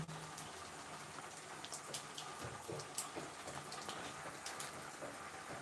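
Hot water runs steadily from a tap or pipe onto Devgad Alphonso mangoes for hot water treatment, a soft continuous splashing and gushing with small irregular drips, fairly quiet and with no voices.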